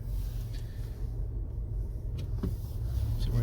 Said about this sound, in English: There's a car behind me.